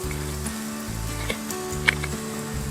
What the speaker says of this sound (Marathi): छानपैकी एका बाजूने आता चांगली भाजून घेऊया.